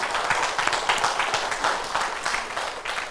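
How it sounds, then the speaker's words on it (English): Audience applause at a business talk on profit and peace by Vijay Kapoor for the Derby Jeans community, a dense steady wash of many hands clapping that holds at one level and never drops out. "I like the claps."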